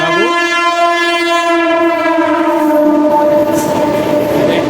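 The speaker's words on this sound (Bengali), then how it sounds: "এই পাশ দিয়ে ট্রেন বেরিয়ে যাচ্ছে।" A train rolls past right beside a riverside temple near the rail line, its horn sounding a long loud blast at the start, followed by a close, steady rumble of wagons on the tracks, with no talk.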